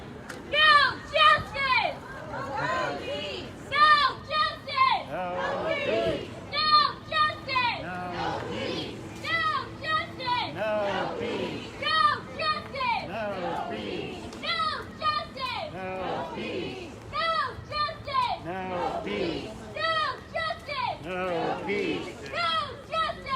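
Outdoors, a relaxed crowd of protesters kneeling in memory of George Floyd chats steadily, with overlapping voices, children's chatter and nearby talk forming a continuous, lively hubbub.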